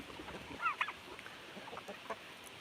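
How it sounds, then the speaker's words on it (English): Rhode Island Red chickens on a rural South Dakota farm give a few short clucks and squawks, a brief cluster near the start then scattered softer calls over quiet background noise. "Rhode Island Reds are cool chickens."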